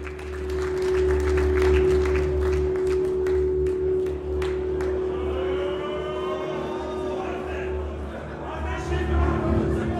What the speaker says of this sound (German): Großen Applaus für Sene Krasniki und Hamza Davliatmirov.